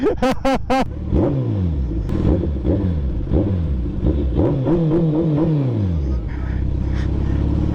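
A Suzuki Hayabusa motorcycle on a Ladakh road gives several sharp close revs, then a string of rising and falling throttle blips, loud and near, with a voice talking over parts of it.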